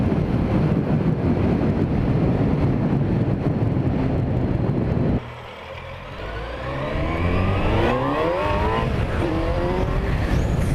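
A Suzuki 1250 Bandit motorcycle with a Holeshot Stage two setup pulls hard in first gear. Heavy wind roar gives way to a loud engine note whose revs climb steeply, with no talking.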